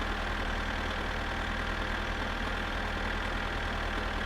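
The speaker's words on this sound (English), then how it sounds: "The tractor's super loud." A steady, loud tractor engine drone in the video game My Summer Car rumbles continuously without pause, low and throbbing like a tractor idling, with no voices over it.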